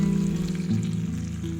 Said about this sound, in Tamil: முந்திரி பருப்பு திராட்சை எல்லாம் நெய்யில் போட்டு வறுத்து